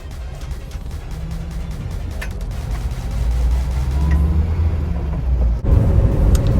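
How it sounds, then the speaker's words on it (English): Mercedes W115 without power steering, driving and making U-turns: a low interior engine rumble that swells as it pulls away, with a brief dip and a thump near the end and no talking. "driving the car and like making U-turns such as these is quite a pain"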